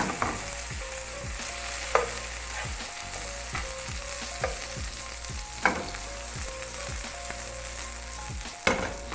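Onions fry in butter in a pan with a constant sizzle, punctuated by repeated scraping and clanking strokes of a utensil stirring at irregular intervals.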